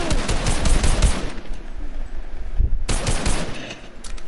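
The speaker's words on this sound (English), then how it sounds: "You guys are both shooting the AR at the same time" Rapid automatic AR assault rifle fire in Fortnite, two weapons shooting at once in dense, continuous bursts, loud and close, with a brief gap near the end before the firing resumes.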